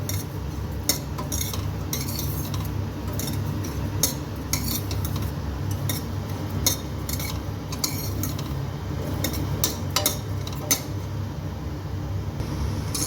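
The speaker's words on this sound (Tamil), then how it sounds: "இப்போது அதுலேயே அந்த நெய் கூடவே நம்ம ஹாஃப் கப் கோதுமை ரவை சேர்த்துக்கிறேன் இது லைட்டாக ஒரு ஒன் மினிட் ஃப்ரை பண்ணிக்கலாம்" Wheat rava fried in ghee for payasam, stirred steadily in the pan: a dense, continuous scraping and rattling of the spoon against metal with a low frying hiss beneath, close and even throughout.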